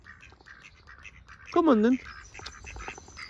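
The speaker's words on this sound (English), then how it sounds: "We're having a nice walk with the ducks." Ducks quack loudly close by during a walk in Northumberland, one prominent burst of squawking calls amid softer background quacks, with a person speaking briefly.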